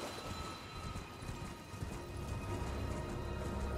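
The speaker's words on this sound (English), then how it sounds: "Your horse has horns." A horned horse, half horse and half goat, gallops in the Elden Ring video game, its hooves making a steady, fairly loud clip-clop rhythm against a dense layer of game ambience.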